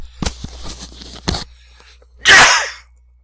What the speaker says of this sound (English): I've got to sneeze, I'm so sorry people.